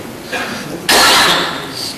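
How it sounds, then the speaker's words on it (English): A single loud, harsh cough bursts out close to the microphone, following a brief breathy sound. "Excuse me for a cough."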